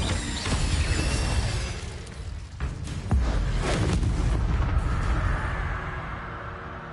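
A fiery Incendio spell blast in Hogwarts Legacy, a loud roaring burst with crackling rumble that swells near the start and again midway, sustained with no talk.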